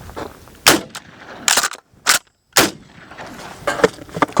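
A KelTec KSG-12 pump shotgun fires full-size buckshot outdoors: four loud, sharp blasts spaced roughly half a second to a second apart, each with a short echoing tail, followed by quieter rustling and handling noise.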